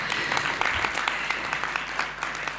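An audience applauds Madame Rachel at the opening of the 11th Africa Initiative meeting, a steady, fairly quiet patter of many hands sustained throughout without a break.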